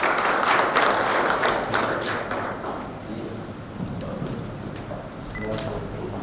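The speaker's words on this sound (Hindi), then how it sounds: "तालियां बजाएंगे इनके लिए भी।" Audience applause at a 10th anniversary celebration of the Uva Jagriti Sansthan, a steady wash of clapping hands spread over a hall and running continuously, with a speaker's voice over the crowd.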